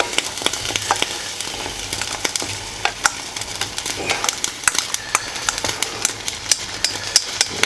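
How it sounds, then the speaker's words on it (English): Peas and mushrooms go back into a cream sauce in a pan. A spoon stirs with soft scraping and many sharp little clinks, steady and close, over a low background hum. "Now we're going to take and add our peas and mushrooms back in."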